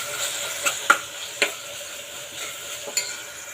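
Ginger garlic paste fries in a pan for tomato rice, a soft low sizzle broken by a few sharp clinks and scrapes of a spoon against the metal.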